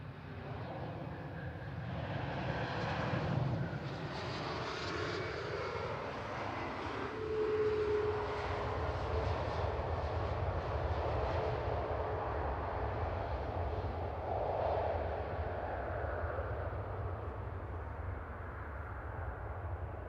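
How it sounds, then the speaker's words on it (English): An EasyJet airliner inbound from Lanzarote touches down at Manchester Airport, a steady broad jet-engine roar holding loud and near throughout with no talk. "going for the touchdown. This is EasyJet coming in from"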